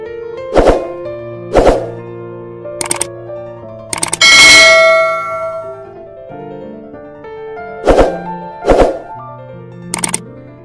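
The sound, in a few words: notification bell ding sound effect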